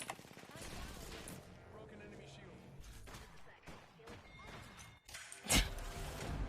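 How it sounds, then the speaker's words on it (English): Rapid automatic gunfire from two weapons wielded at once in Apex Legends, bursting in uneven volleys with a sharp loud crack near the end, mixed with voices in the background. "I forgot I'm wielding 2 automatic guns"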